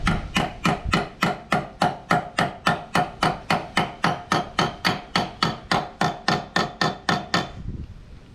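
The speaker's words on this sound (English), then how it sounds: "I'm going to tighten those shocks up before I forget." Tools work on the shock absorbers of a car being fitted with air bag suspension, giving a long run of evenly spaced, loud, sharp metallic strikes close by, about three per second, that stop abruptly at the end.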